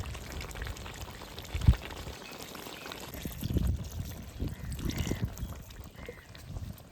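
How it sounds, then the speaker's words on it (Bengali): A little water poured into a pan of half-cooked food while making a Bengali fish and water lily dish, giving a soft, close, low splashing trickle with a brief louder spill, then bubbling and simmering sounds. "এবার হালকা একটু জল দিয়ে ঢাকা দিয়ে দেবো"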